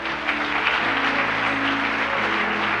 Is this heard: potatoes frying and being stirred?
no